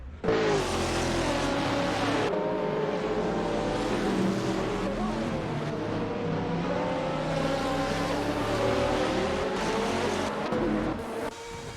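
GTR race cars lapping Misano in a racing video game, engine whine rising and falling in layered tones as several cars pass, loud and continuous.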